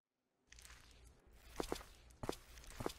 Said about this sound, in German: dann hörte sie Schritte nahen